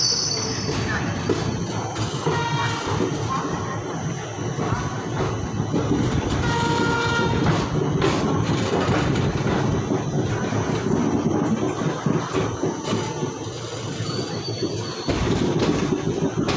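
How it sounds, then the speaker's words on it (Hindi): Passenger express train running on rails between Lucknow and Mathura, heard from on board as a continuous loud rumble with rhythmic clickety-clack, horn blasts sounding at intervals and a voice speaking over it. "दोस्तों हमने उन्नाव में ऊंचाहार एक्सप्रेस को ओवरटेक किया था, वो अभी पीछे कानपुर अराइव कर रही है।"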